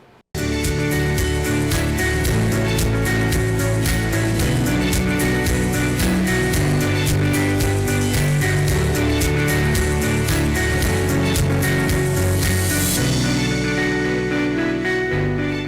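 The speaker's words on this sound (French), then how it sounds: "Jingle." A loud, continuous music jingle plays for a school quiz competition show between Saint Michel and Saint André, running steadily for about fifteen seconds before thinning out at the end.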